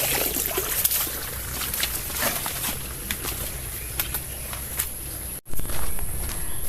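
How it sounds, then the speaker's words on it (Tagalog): Stream water flowing and trickling along a footpath after Typhoon Kristine, a steady close wash with scattered footsteps and faint birds, briefly cut near the end. "Dito sa dinadaanan namin umaagos pa yung tubig sapa."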